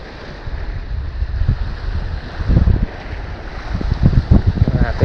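Gusty wind buffets a small fishing boat at night, rumbling and roaring close to the microphone in uneven surges, with water slapping below and no clear talk.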